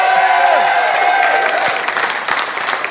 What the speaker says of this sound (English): Give yourselves a nice round of applause on this side of the room.